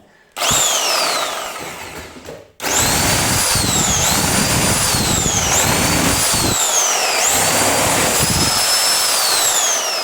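A professional 1000 W reciprocating saw cuts loudly and close up with a steady high whine, pausing briefly near the start and then running continuously, its pitch dipping and recovering repeatedly under load.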